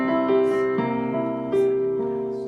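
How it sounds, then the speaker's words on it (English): A C seventh chord is played on a sustained-tone instrument, struck twice in a brief phrase with ringing held notes, clear and fairly soft, with no voice over it. "If you're in C and you play a C seventh, which sounds like this"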